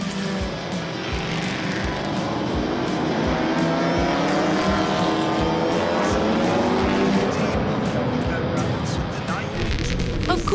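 Historic race cars, among them Porsche 911, 904 and 356 models, roar past on the Spa circuit. The engines are loud and continuous, with pitch rising and falling as several cars accelerate and pass close by.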